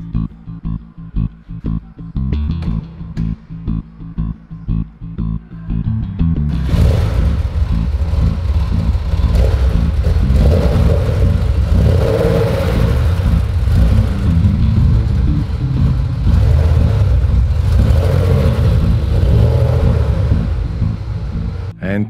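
A Dodge Hellcat drives on open country roads past wide fields and long straights, its engine rumbling steadily and loudly throughout, with a heavier surge of revving and acceleration after a lighter, choppier start.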